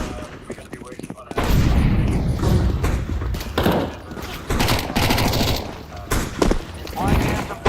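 Rapid bursts of gunfire in Counter-Strike 2 gameplay, loud repeated shots and thumps in dense clusters following a sharp onset, with some voice mixed underneath.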